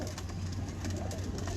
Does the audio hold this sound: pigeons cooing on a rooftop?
yes